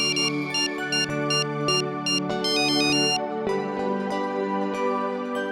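A phone rings with a repeated electronic melodic ringtone, steady and fairly loud throughout, with no talking over it.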